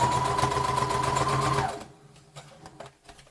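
A sewing machine stitching a zipper onto a pouch runs in a steady close whir for under two seconds, then stops, leaving a few light handling taps.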